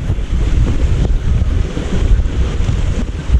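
A monsoon-swollen mountain river rushes past near a temple trail in Nepal, a loud, dense, unbroken roar of churning water mixed with wind buffeting, with no talking.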